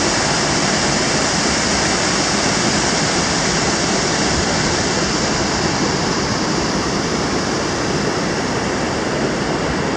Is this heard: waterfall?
yes